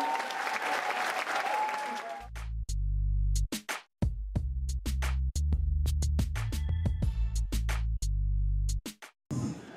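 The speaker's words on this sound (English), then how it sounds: "So, can we have a big round of applause," A brief burst of crowd applause at a London natural hair week event, heard at the start before being cut off by loud, choppy electronic tones and sharp clicks.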